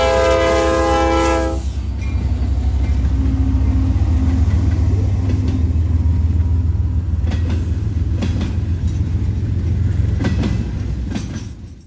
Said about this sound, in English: running to Avon, Indiana, gets on the Mount Victory sub at Greenwich with an SD70 Mack rebuilt leader